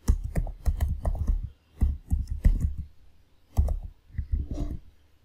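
A password is typed on a computer keyboard at a Linux terminal during a RHEL registration: close, crisp keystrokes fall in quick clusters separated by short pauses.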